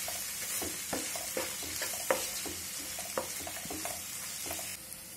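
Spices, chilli powder and salt being stirred into a Maggi corn masala mixture in a pan, with a steady light sizzle under repeated soft scraping and clinking strokes of a spoon, close and continuous.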